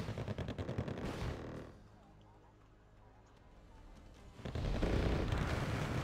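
Mortar and gunfire in the video game Wargame Red Dragon: dense, loud bursts of rapid firing and blasts at the start and end, with a quieter rumbling lull between them.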